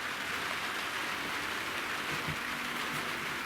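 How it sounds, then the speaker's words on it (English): Steady rain starts coming down as a dense, even hiss on surfaces around, with no voices. "If it really starts pissing rain, we'll find out really quick."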